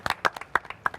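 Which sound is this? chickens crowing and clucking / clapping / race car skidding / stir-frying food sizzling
clapping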